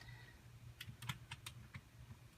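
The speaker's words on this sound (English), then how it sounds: "I'm going to type until I have what I want in here." Brief, faint typing on a computer keyboard: a handful of light key taps in an uneven burst over a low steady hum, with no voices.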